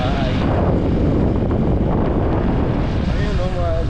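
Steady wind gusting on an island around sunset, a continuous broadband rush and buffet across the whole span, loud and close as if striking the microphone.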